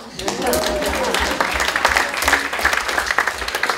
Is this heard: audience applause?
yes